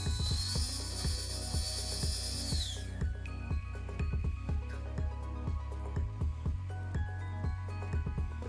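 Hand blind tapping of a threaded hole in metal in a workshop, a smooth squeal fading out, then a run of irregular sharp ratcheting clicks and ticks close up.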